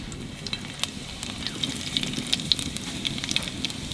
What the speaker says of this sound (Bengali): ঘিয়ের উপর দেবো জিরে, শুকনো লঙ্কা